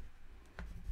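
A single short pen-on-paper scratch from someone jotting coordinates down by hand, faint and close in a quiet room.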